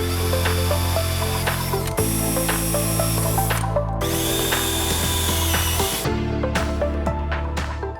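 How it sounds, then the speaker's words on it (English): A power drill whirs continuously while drilling mounting bolt holes in a Ghostbusters proton pack build, its motor pitch shifting as it bites in and eases off, loud and close with no talking. "marking holes that we're going to need to drill through for our mounting bolts"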